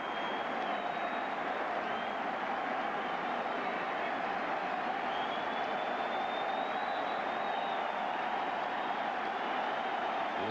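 Capacity crowd at Yankee Stadium during a Boston–New York baseball game, rising to its feet in the 8th inning, a steady roar of cheering and applause sustained throughout at even volume, with a high whistle drifting over it.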